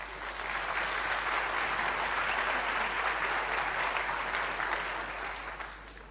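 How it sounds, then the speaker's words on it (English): An audience at FOSDEM, the open-source conference, claps loudly and steadily for a speaker, with dense applause filling the room for about six seconds before tapering off slightly at the end. "would welcome you all to give him a round of applause"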